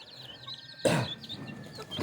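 Native country chickens cluck as they slowly step out of a newly opened coop, with soft, close clucks and calls and one louder burst of movement partway through.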